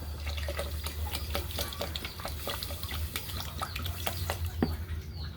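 Ice-cold refrigerator water is poured into a heated cooking pot, producing faint, irregular splashing and trickling over a low steady hum.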